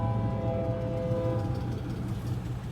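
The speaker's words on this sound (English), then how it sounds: "They got trains." Low steady rumble with tonal hum of a train passing along a Route 66 town in Kansas or Oklahoma, heard continuously and fairly close throughout with no talk.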